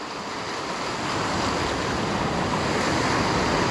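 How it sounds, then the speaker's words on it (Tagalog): Ocean surf rolls in at the shore, a steady broadband wash of waves mixed with wind noise, close and continuous without voices. "Yan o, ganda ng alon."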